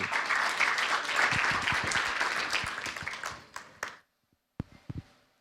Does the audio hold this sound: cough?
no